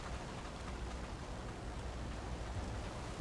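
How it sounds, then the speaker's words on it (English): Steady, soft video game rain hiss fills the clip, even and continuous, with a low rumbling thunder undertone; no voices. "that rain and thunder actually"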